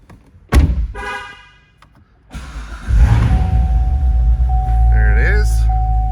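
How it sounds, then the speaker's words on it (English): A 2018 Chevrolet Corvette Grand Sport 2LT with a 7-speed gives a sharp door thunk and a couple of soft clicks. Its engine cranks and catches with a loud rumbling start, then settles into a steady idle. "Let's get in and fire this one up."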